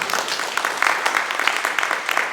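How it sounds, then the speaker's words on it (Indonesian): A church congregation applauds during a Sunday worship service, with dense, steady clapping that holds at an even level throughout and no clear voices over it. "Tepuk tangan untuk Tuhan"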